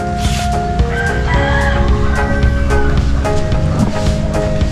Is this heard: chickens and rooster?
yes